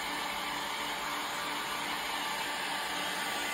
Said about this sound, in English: using a hairdryer or a heat gun like I am, we're just speeding up the process